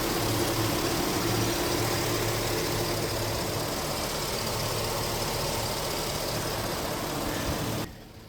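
A 2006 GMC Sierra SLT Z71's 5.3-liter V8 idles steadily with a low even rumble, close and continuous, before the sound cuts off near the end.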